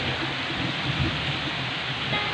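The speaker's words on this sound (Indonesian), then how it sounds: "Aduh, hujan guys." Heavy rain pouring down outdoors, a dense, loud, unbroken hiss with a low rumble underneath, steady throughout with no voices.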